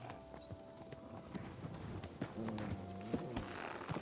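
Horse hooves clip-clop in a steady walking rhythm in the medieval game Kingdom Come: Deliverance II, close and moderately loud over a faint ambient background with no talk.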